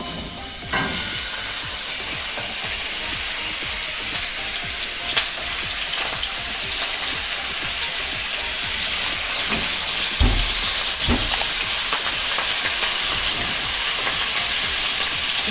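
Ox heart fries in hot oil in a pan, giving a loud, steady sizzle and hiss that runs the whole time, broken by a few soft knocks and scrapes of stirring.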